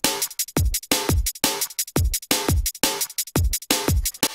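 A drum track of hi-hats, a kick and two snares plays alone in a punchy, repeating pattern, heavy booming kicks with sharp snare hits and ticking hats in a steady groove.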